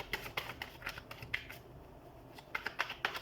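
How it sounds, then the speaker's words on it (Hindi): Tarot cards are shuffled close by in quick, soft riffling bursts of crisp paper flicks, with a short pause midway before the flicking resumes. "लेकिन हम करियर के लिए शफल करके निकालेंगे।"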